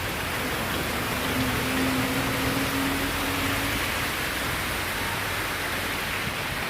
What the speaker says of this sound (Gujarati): હજુ વરસાદ રોકાતો જ નહીં.